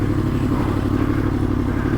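A Yamaha FZ-10 motorcycle engine runs steadily at a low idle, with a loud, dense rumble and a faint mechanical clatter that continue without a break.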